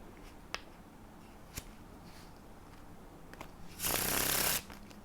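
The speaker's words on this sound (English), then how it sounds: "sound of the Faro Shuffle, the bridge part of the Faro Shuffle" Deck of playing cards given a Faro shuffle, heard in its bridge phase as a loud, dense riffling burst lasting under a second, preceded by a few faint clicks and taps of handling in a quiet room.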